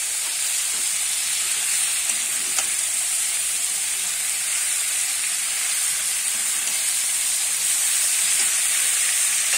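Yardlong beans frying in a pan with spices, giving a steady, even sizzling hiss throughout with one faint click partway and no talking.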